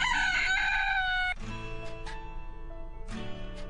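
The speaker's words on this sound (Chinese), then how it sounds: "鸡鸣声伴随着风吹树叶的沙沙声，这是朱利亚诺·苏萨在家中最常听到的声音。" A rooster in a Brazilian fishing village crows once, loud and near, for about a second, followed by soft sustained tones with no talking.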